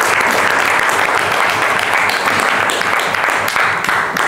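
Loud, dense applause from a Toastmasters club meeting audience in Rwanda, welcoming a newly registered member, with continuous close clapping throughout and a faint undertone of crowd voices.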